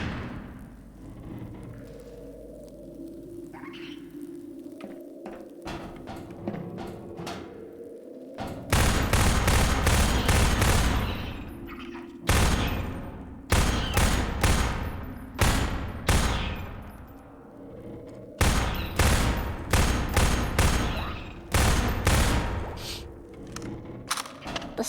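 A submachine gun fires in a video game, heard as loud, dense bursts of automatic gunfire with brief gaps between them, following a quieter stretch at the start.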